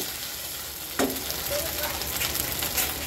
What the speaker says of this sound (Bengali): এখন আমি এর মধ্যে দিয়ে দেব ভেজে রাখা আলু।